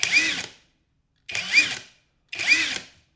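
A generic Harbor Freight impact driver runs in three separate trigger pulls, each ramping up to a whine and cutting off after about half a second, with short silent gaps between bursts and no talking.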